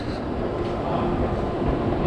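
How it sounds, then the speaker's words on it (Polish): Steady, loud rumbling roar of a train passing near a metro station entrance in Helsinki, a constant low drone with no breaks and no speech. "No ale tu jest wejście chyba do samego metra."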